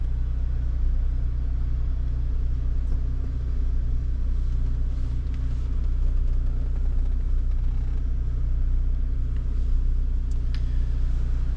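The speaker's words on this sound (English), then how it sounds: "As we can hear, the car is idling absolutely fine." A Renault Megane RS Trophy engine idling, a steady, smooth low rumble held evenly and close, with no revving.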